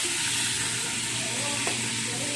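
Milkfish (bangus) fries in a hot pan with a steady, close sizzle and crackle that holds evenly throughout, with no one talking.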